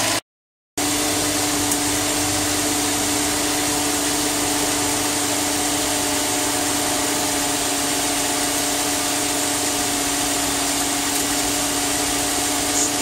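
A Subaru engine idles steadily with a 5EAT five-speed automatic transmission after shifting through the gears, a continuous mid-level drone and whine after a brief gap at the start.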